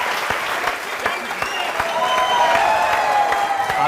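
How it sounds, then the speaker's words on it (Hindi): A studio audience on an Indian courtroom-style TV show bursts into loud, dense applause that swells slightly and holds steady. Many hands clap together, with faint crowd murmur underneath. "जोरदार तालियां इन लोगों के लिए।"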